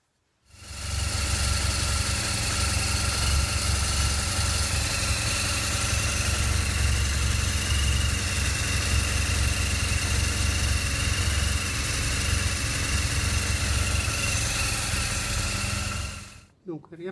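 A BMW R1200GS motorcycle engine idles steadily and loudly close by, a continuous low throbbing rumble that starts abruptly, holds unchanged for about sixteen seconds, then cuts off.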